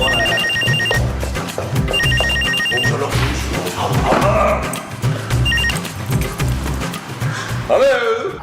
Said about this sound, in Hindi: अंदर फोन बज रहा है